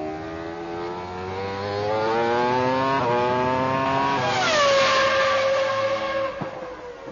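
A 1999 Formula One car at Silverstone revving hard, its engine climbing in pitch through several upshifts with brief dips between gears, rising to a loud, sustained high scream close by before easing off.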